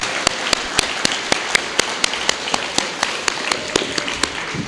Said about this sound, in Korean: 우리 다시 한번 우리 박수 한번 해주시겠습니까?